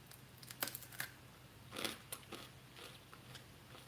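Biting into crunchy homemade peanut brittle studded with black and white sesame seeds, giving a few sharp close crunches followed by softer chewing crackles, with no talking.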